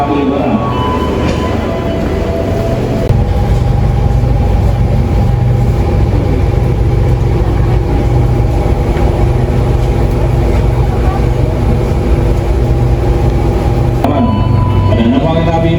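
A train rumbles loudly and steadily through a station, a constant heavy roar of rolling wheels that eases slightly near the end.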